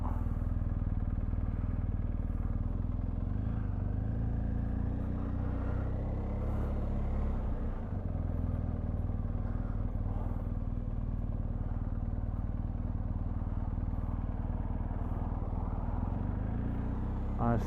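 A GS motorcycle engine rumbles and revs continuously while riding in turning circles off road on wet leaves, the engine close and steady with gear changes and throttle swells.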